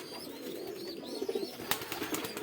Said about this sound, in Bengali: ফিল্ডবাগের বাচ্চা চিল্লাইতেছে